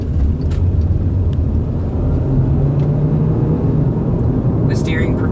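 A 2012 Volkswagen Passat SE rolls along the road, its steady low engine and tyre rumble continuous and close throughout, with a brief higher squeak near the end.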